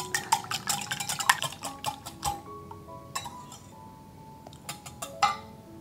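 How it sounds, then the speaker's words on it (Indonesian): Banana bread batter mixed with water is whisked by hand in a bowl, producing rapid clinking taps of a whisk or spoon against the side, in quick bursts separated by pauses, close and fairly quiet. "Ini kita kocok aja sampai tercampur rata."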